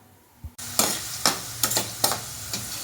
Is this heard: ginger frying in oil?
yes